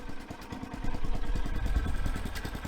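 A chainsaw mill cuts lengthwise through a log, giving a steady, loud engine drone with a rapid pulsing chatter from the chain throughout.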